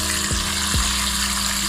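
Flour-coated chicken fries in hot oil, a steady, close, loud sizzle that stays even throughout, with two brief low dropping thumps as pieces go in.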